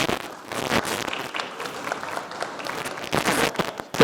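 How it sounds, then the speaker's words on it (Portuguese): Audience applause at an infrastructure governance conference welcoming a speaker, a moderate, somewhat sparse clapping from a smaller crowd with uneven, crackling hand claps that swell near the end. "convidamos com os aplausos o senhor Luciano Lourenço da Silva."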